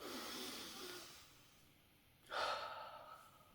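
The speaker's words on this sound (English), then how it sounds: "These deep breaths" Deep, deliberate breaths taken as part of a cold-shower breathing routine: a long breathy exhale fading out, a pause, then a sharp, loud inhale near the mic with a hissing, gasping quality, heard alone without speech.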